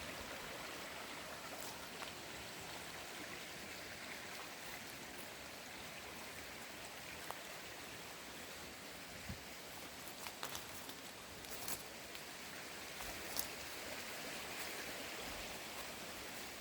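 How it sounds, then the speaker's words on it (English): A gently flowing brook in the woods of Northern Maine on a hot day gives a steady, soft watery hiss throughout, with occasional faint rustles on top. "Another nice thing is the brook isn't too loud"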